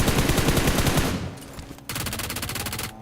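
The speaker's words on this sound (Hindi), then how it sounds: "मैं लेता हूं इसकी किल, भले ही P90 की गोली चलानी पड़े।" Rapid P90 submachine gun fire in the BGMI mobile battle royale game, loud dense automatic bursts filling the first second, a brief lull, then another sustained burst close by with no talk.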